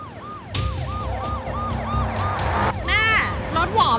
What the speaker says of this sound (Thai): แม่รถหวอมาชิดเข้าข้างทางก่อน